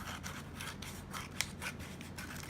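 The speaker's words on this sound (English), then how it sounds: "I'm just going to cut this off too because that's a lot of paper" Scissors snipping through a sheet of paper in a series of close, crisp cuts with a steady rhythm, heard alone with no talking.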